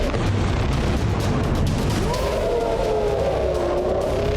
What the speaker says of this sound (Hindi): कैसे रिहायशी इलाके में मिसाइल आकर गिरती है और पूरा इलाका धमाके की आवाज से थर्रा जाता है।